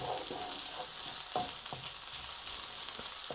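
Bacon fries in a pan, a close, steady sizzle with a few short scrapes and stirs breaking through, and no talking.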